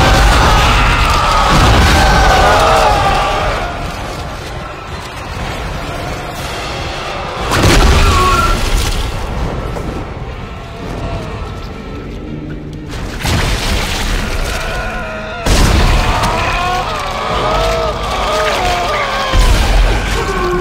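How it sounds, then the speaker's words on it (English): Force gun blasts in the Dead Space video game, several heavy booming bursts with crashing impacts spaced across the stretch, loud and close among game sound effects. "Let's try the force gun on these guys."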